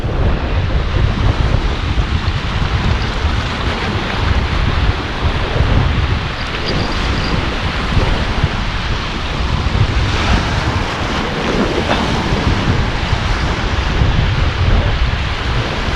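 Ocean waves surging against a rocky coral shore at high tide, a loud continuous rushing roar with swelling surf and wind buffeting the microphone, no voices.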